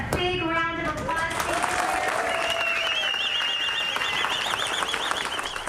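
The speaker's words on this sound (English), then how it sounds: "Please can we give all of our vets a big round of applause?" A crowd applauds veterans at a Southwest Airlines gate at the Baltimore airport. Steady clapping is joined by cheers, a few whistles and voices talking nearby.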